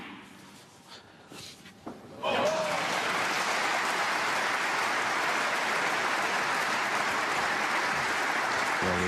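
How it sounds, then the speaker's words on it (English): Audience applause breaks out at a snooker match in the German Masters, rising suddenly after a few quiet knocks and holding as loud, dense clapping for several seconds. "Well, the applause is for Tom Ford."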